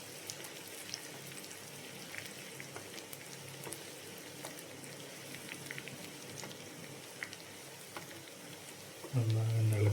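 Chopped shallots frying in butter in a pan for an Easter fish curry, stirred now and then, with a steady soft crackling sizzle that continues throughout and a louder burst near the end.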